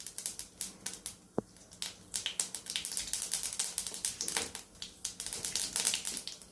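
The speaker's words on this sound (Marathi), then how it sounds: "ह्याच्यात आता थोडी मोहरी घालूया" Mustard seeds tossed into hot oil in a pan for a pea and spinach sabji, crackling and popping in dense, rapid, sharp bursts that keep going close by, with no one speaking.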